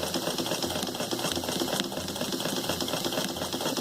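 A sewing machine runs steadily along a shirt collar seam, its rapid even chatter of stitches continuing without pause, moderately close and with no talk.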